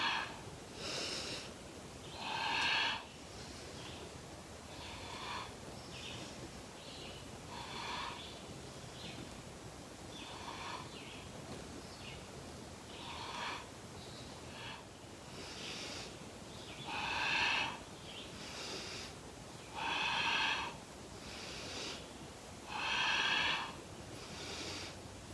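Slow yoga breathing during a spinal flex exercise, with soft, airy inhales and exhales through the nose arriving as repeated hissing breaths every couple of seconds, close and quiet over a faint background hush, with no talk.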